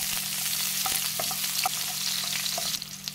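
Chopped onions sizzle and fry in a hot pan as the base for a shrimp, misua and patola soup, a steady close crackle with a low hum underneath and a few scraping stirs.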